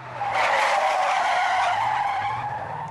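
A red car driving fast, rendered as a story sound effect: a loud, steady engine roar with a tire squeal, lasting a few seconds and heard alone.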